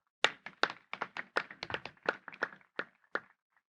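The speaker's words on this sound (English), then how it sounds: "Please give a big round of applause to Afreen and Vajdaan." Applause for performing artists at a public arts event in Pakistan, heard as a sparse scatter of separate, fairly close claps and thuds at an irregular rhythm rather than a dense crowd roar, fading out near the end.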